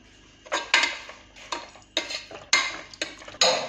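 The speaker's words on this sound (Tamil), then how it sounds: "கிண்டிக்கலாம்." A spoon stirs and scrapes through biryani masala with garam masala in a cooking pot, about seven sharp metallic clinks and scrapes at an uneven rhythm, close and clear with no talk.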